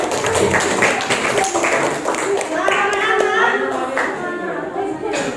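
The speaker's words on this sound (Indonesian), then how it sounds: "Berikan tepuk tangan untuk kalian semua." Children clap their hands together in a classroom, a ragged patter of many small hands that carries on steadily under a teacher's voice and the chatter of the class.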